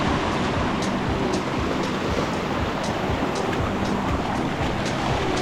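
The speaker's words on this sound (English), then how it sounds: "Just when you think you're done with creek crossings." Rushing water of a mountain creek crossing on a high-elevation Colorado trail during an ultramarathon, a steady broadband roar that stays loud and close throughout, with no voices.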